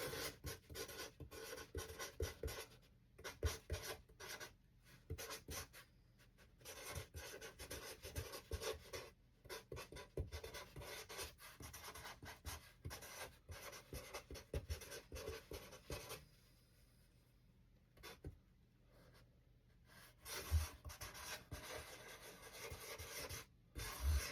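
A blue pen writes a thank-you note while a wreath is being boxed for shipping, giving soft, close scratching and rubbing strokes in irregular bursts with short pauses, faint and with no talking.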